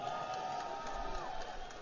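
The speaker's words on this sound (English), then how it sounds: "let me hear you guys cheer in the audience" Audience at an esports League of Legends final between Fnatic and SK Gaming cheering and whooping, a brief loud crowd roar that fades slightly toward the end.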